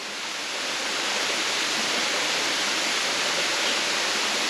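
A steady roar of falling water comes from the tall Dajianshan waterfall in Xizhi, loud and near, the continuous rush swelling slightly in the first second and then holding even, with no talk.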